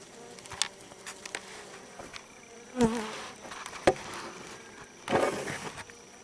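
Scattered buzzing of honey bees close by at an open Langstroth hive, with a few louder passes and light tapping against a quiet background; no one speaks.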